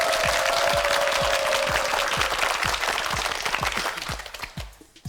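Studio audience at a Korean quiz show applauds a contestant, dense clapping from many hands over a steady bed of loud noise that gradually thins and fades toward the end.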